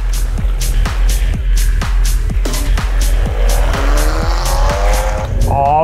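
Loud Ferrari 599 HGTE with the handling package and no catalytic converter, its engine roaring with rhythmic revving pulses as the tyres squeal and rising gear tones sweep upward near the end.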